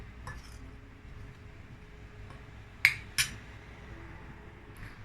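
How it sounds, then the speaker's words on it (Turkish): Paprika and flour being mixed in a bowl, with a soft, steady scraping stir and two sharp clinks of a spoon against the dish partway through, fairly quiet and close. "Şöyle unla ikisini harmanlıyorum."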